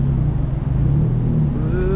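Steady low engine rumble of cars in street traffic on Bukit Bintang, Kuala Lumpur, at night, with one vehicle revving and a rising whine near the end, loud and close.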